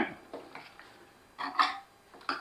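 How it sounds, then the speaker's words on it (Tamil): Chicken being stirred into masala in a cooking pot for a Madurai chicken curry, heard as light scattered clinks and scrapes of a spoon against the pot at close range. "இப்போது இந்த சிக்கனை வந்து நல்லா கிளறி விட்டுக்கோங்க"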